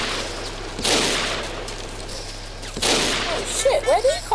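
Gunfire in the Battlefield Heroes video game: two short, loud bursts of shots about two seconds apart, with some chirpy game effects trailing at the end.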